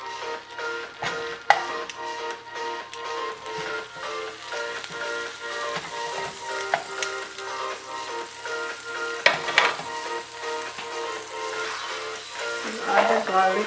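Butter sizzles and fries steadily in a pot over low heat, a continuous close crackle with occasional louder pops and a faint background hum, with no talk.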